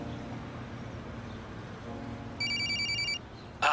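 A telephone rings once, a short electronic trill rising clearly over a quiet background hum, then breaks off, with a sharp click at the very end.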